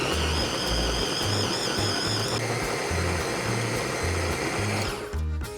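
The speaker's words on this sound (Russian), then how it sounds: "Сливаем весь сок и пробиваем в блендере." A blender whirs loudly and steadily pureeing baked turkey and its juices, its motor pitch shifting partway through as the contents churn, then winding down near the end.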